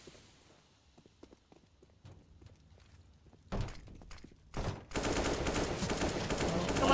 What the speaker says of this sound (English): DemQ, though, definitely meant to use the AK.